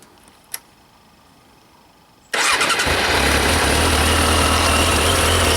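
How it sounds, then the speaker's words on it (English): After a quiet moment and a single click, a stock Suzuki RF900 motorcycle engine fires up and settles into a steady, close, rumbling idle. "let's listen to the exhaust note"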